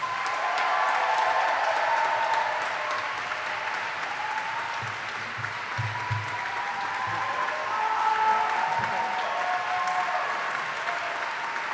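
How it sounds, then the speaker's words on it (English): A crowd at a PalFest NYC reading event in New York welcomes the poet Mohammed El-Kurd with sustained applause, a dense, steady roar of many hands that lasts over ten seconds with a slight swell near the end. "Please give him a big, big welcome and round of applause."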